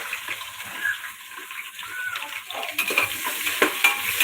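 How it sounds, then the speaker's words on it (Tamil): Onions frying in oil in a pan, a light crackling sizzle with occasional stirring scrapes that grow slightly louder toward the end, with no talk. "வெட்டி வைத்து வெங்காயத்தை அளவாக போட்டு மிதமாக வதக்கவும்."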